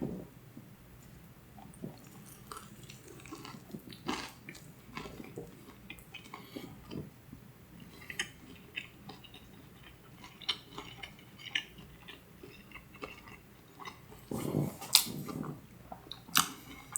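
Someone bites into a crispy KFC spicy chicken sandwich, with faint crunches and soft chewing close by, scattered clicks and light handling noises, and no talk.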